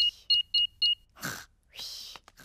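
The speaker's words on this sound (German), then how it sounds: "Und jetzt den Alarm wieder an." Four short electronic beeps from a home alarm keypad in quick succession as the alarm is switched on, followed by faint rustling and breathy sounds.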